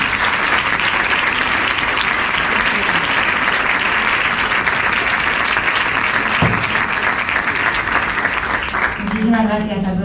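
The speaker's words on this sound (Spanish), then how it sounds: "Un aplauso muy grande, ahora sí." A lecture audience gives the speaker a long, dense round of applause that stays steady for several seconds and then tapers as a voice begins over it near the end.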